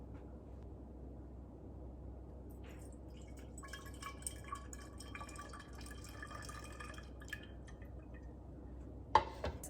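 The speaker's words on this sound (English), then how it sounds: "I have them evenly poured into all my bottles" Homemade kombucha poured into bottles, giving a faint trickling and dripping fill with small glassy clinks that end in a sharper clink near the close, in a quiet room.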